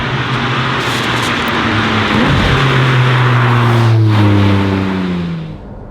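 A Porsche 718 Cayman GT4 RS on a wet road roars loudly up through the revs, then drops in pitch through successive downshifts with rasping blips before the engine note falls away.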